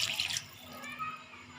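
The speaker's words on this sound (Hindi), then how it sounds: "देखिए 1 गिलास पानी हमने शामिल कर दिया है।" A glass of water is poured into a cooking pot of potato and peas curry, a short splashing gush that tapers off into a softer trickle.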